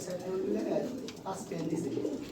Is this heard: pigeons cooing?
yes